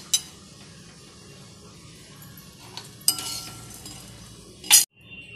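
A utensil scrapes and clinks in a pan while roasted urad dal is scooped out, quiet low rustle throughout with a few sharp metallic knocks, the last one loud and close before sudden quiet.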